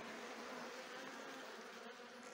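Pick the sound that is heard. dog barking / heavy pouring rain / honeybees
honeybees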